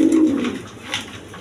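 A male Spanish pouter pigeon cooing up close, one deep, throaty coo at the start that fades out, followed by quieter background sound.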